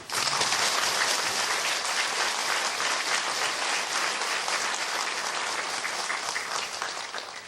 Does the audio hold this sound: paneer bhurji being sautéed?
no